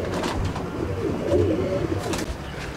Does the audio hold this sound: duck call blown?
no